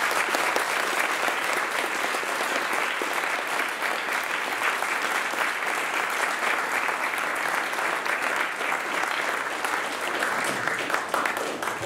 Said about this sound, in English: So let's give our guys a final round of applause.